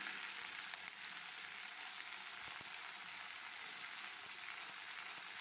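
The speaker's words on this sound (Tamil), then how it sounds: "முருங்கைக்கீரையெல்லாம் போட்டுட்டு நல்லா வதக்கணும்" Onion and drumstick leaves sautéing in a pan, a soft, steady sizzle with faint stirring scrapes, quiet and continuous without talk.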